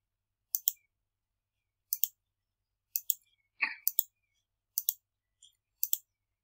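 A computer mouse clicks during an online task demonstration, six short, close double clicks spaced about a second apart in a quiet room, with one brief faint scrape in the middle.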